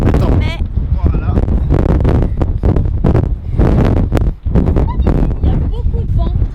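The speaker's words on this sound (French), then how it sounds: "il y a beaucoup de vent." Strong wind on a stormy Irish coast roars and buffets the microphone in a loud, continuous rumble, with voices partly buried beneath the gusts.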